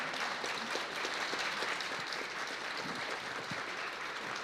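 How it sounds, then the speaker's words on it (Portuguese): Audience applause at a piano recital with a chamber orchestra, continuous dense clapping from a seated crowd, fairly even and sustained. "uma salva de palmas para elas"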